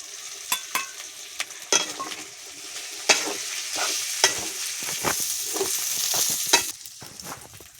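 Corn kernels go into cooked spice masala and sizzle steadily while a spoon stirs and scrapes the pan, producing repeated sharp clacks over the frying hiss, close and fairly loud.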